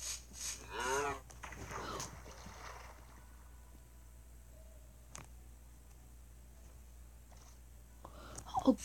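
A cow in Minecraft moos once near the start, followed by quiet ambient noise, soft splashing and a few faint clicks.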